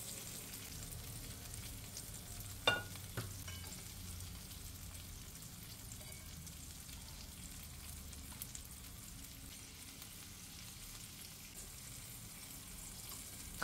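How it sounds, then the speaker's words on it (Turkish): Zucchini slices shallow-frying in a pan, a faint steady sizzle running throughout, with a couple of brief utensil clicks near the start and no talk. "Kabakları da aynı şekilde arkalı önlü hafif kızarttım."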